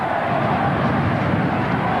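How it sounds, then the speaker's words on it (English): Record crowd at the Showground chanting for the Illawarra Steelers during a 1990 rugby league match against St George Dragons, a steady dense roar of many distant voices sustained throughout. "the big crowd, the record crowd here at the Showground, starting to chant up for the Steelers"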